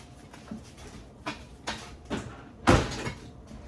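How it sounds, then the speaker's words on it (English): A few soft knocks and thumps of a can against a wooden pantry door, then one louder bang, in a quiet kitchen. "Sorry about that bang. I had my can right up against the door"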